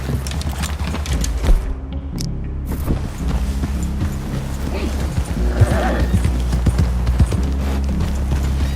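Horses walking in a western open-world video game, steady clip-clop hoofbeats at close range over a constant low rumble of game ambience, with brief talk around them.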